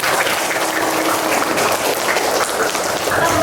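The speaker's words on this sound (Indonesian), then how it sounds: "Terima kasih, tepuk tangan dulu." Applause from a classroom of students fills the whole span, a steady dense patter of many hands at close range with no talk over it.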